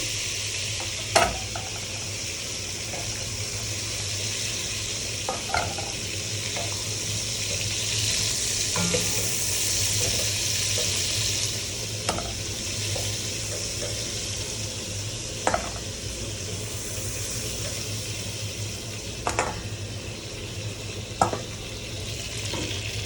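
Prawns fry in a pan with a constant hiss and sizzle, while occasional sharp clicks of a utensil against the pan break through the frying noise; no one speaks.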